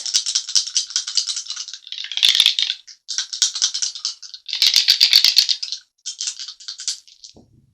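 Astrology dice rattle and clatter in a hand or cup, several bursts of shaking with short pauses, close and crisp, ending with a faint thud.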